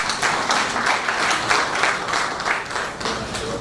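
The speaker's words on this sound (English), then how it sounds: "can we give him another round of applause?" A conference audience at a builders' technical session gives a presenter a round of applause, a dense, even wash of many hands clapping at moderate distance for a few seconds, with no speech over it.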